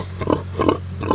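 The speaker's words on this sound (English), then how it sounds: "She's a sweet pig." A heavily pregnant sow, close to giving birth, grunts close by: three short, soft grunts spaced evenly over a low steady hum.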